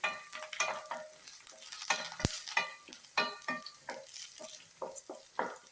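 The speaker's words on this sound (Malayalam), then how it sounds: "അതിലൊരു ഭംഗിക്ക് വേണ്ടി കുറച്ച് നമുക്ക് കരിവേപ്പില ഇട്ട് കൊടുക്കാം" Curry leaves drop into hot oil in a pan for a green peas egg masala, giving a crackling sizzle with irregular pops and spatters, plus a sharp clink or two of a utensil against the pan.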